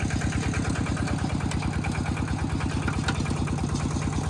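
A Kubota-style TF85 LM single-cylinder diesel engine runs close by after starting, a loud, fast and even thumping idle that continues throughout without talk.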